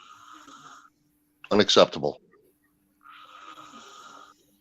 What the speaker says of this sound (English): Snoring like a chainsaw.